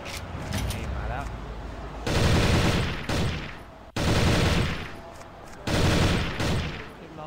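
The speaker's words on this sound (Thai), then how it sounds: "เดี๋ยวนี้ก็จะให้ลองปืนนะครับเก็บปืน AK มา" Bursts of AK rifle gunfire in the Lastcraft Survival zombie game, several loud sustained automatic volleys separated by short pauses, with a voice talking between them.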